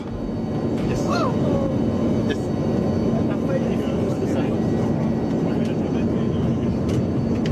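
Airplane cabin in flight carrying a football club's squad, with a steady loud jet engine roar and cabin hum throughout, under people talking and chatting nearby.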